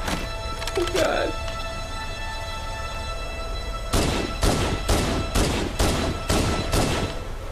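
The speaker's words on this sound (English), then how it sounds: "Stop shooting at him, Kenny!" Halo gunfire in a fast burst of repeated sharp shots over a steady game background hum, close and loud, following a brief tonal game sound.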